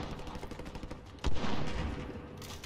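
Gunfire in a battle royale video game match, a dense rattle of shots with one sharp loud blast in the middle followed by a rumbling burst.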